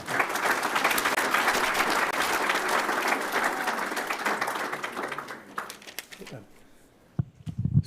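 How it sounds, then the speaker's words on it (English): A room of attendees at a regional collaborative meeting gives a round of applause that stays full and steady for about five seconds, then thins out and fades, leaving a quieter room with a few scattered sounds and voices. "so maybe one more round of applause for them"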